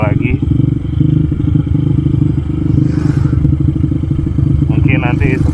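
A motorcycle rides along a mountain road past tea plantations, its engine a steady, loud, close drone with a constant low throb and occasional clattering bumps.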